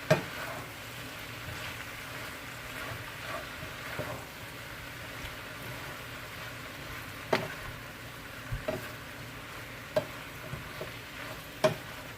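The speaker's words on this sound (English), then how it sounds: "I'm gonna go ahead and mix this in." Chili chicken breast and cabbage, Jamaican style, stirred in a pan over steady, close sizzling frying, with scattered scraping knocks from the utensil against the pan.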